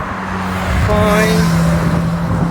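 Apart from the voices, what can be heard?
road traffic, cars passing by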